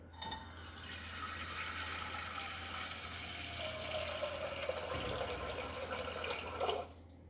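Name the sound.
pouring boiling water into container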